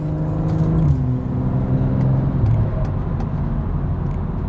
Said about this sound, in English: the downpipe is of course much less restrictive than the original one, allowing for more airflow to pass through the downpipe and making the car sound much fruitier